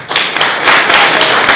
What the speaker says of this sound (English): could we please give a round of applause to Even and the organizers